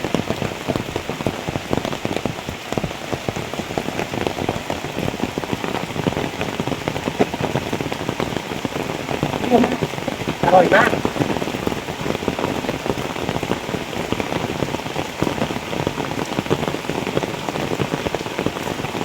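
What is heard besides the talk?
heavy rain falling in the forest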